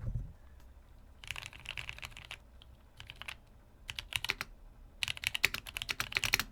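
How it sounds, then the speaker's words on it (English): Rapid keyboard typing in bursts of clicks, close and crisp, pausing briefly between flurries before speeding up again. "I'll give you guys a little ASMR from my keyboard right here."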